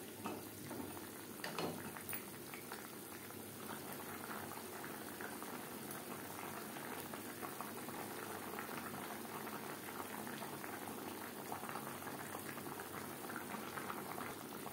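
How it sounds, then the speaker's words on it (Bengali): Fish simmering in curry gravy, a soft continuous bubbling boil with small pops, faint and steady throughout with no talking. "গ্রেভির সাথে মাছ আরও 3-4 মিনিট রান্না করব।"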